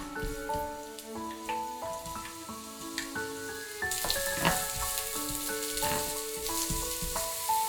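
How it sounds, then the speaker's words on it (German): Carrots and shiitake mushrooms fry in a little oil in a hot pan, a steady sizzle under background music that grows louder and denser about halfway through. "Möhren und Shiitake-Pilze anbraten."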